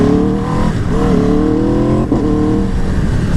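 Aprilia RSV4 or Tuono 1100 V4 motorcycle engine heard while riding, a loud, close, steady clattery drone with pitch rising and dipping as the throttle changes, no talk over it.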